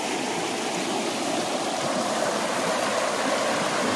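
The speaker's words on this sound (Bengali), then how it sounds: "কেমন স্পিড দেখো, জলের কি গভীর স্রোত" The Dhalai River runs fast and deep, a dense, steady rush of flowing water that holds an even, loud roar without pause or voices.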